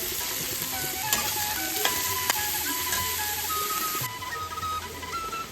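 Banana flower stir-fried with onion, ginger and garlic in a pan: a steady, close sizzle with scraping stirring strokes and a few sharp ticks throughout, no voices.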